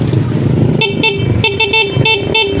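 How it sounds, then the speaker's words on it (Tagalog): A Yamaha Aerox 155 scooter's stock horn honks in a series of short, loud toots with a steady electric tone, preceded by a brief moment of engine and handling noise. "Yan yung kanyang stock horn."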